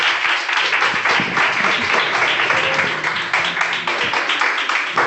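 Audience at an oral health session giving a round of applause, dense steady clapping from many hands that fills the whole stretch, close and fairly loud.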